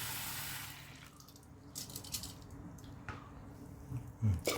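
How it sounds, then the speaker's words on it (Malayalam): Split moong dal is swished and squished in water with faint drips, ending in a couple of louder, close splashes. "ചെറുപയർ പരിപ്പ് നല്ലപോലെ കഴുകി വൃത്തിയാക്കി നമുക്ക് വേവിക്കാൻ വയ്ക്കാം"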